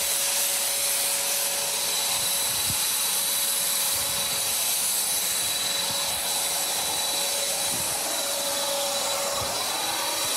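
A turbine paint spray system running steadily, a loud continuous whining rush with a constant tone, and faint rubbing and handling noises beneath it.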